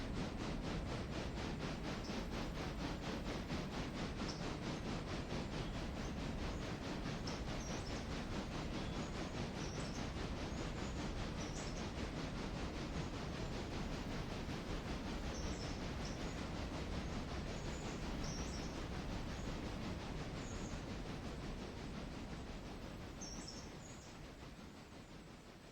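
A train on the Dubkir Valley Railway shoving two box cars back, a continuous close rumble and rattle of rolling stock that holds steady and then eases off near the end, with faint birdsong above.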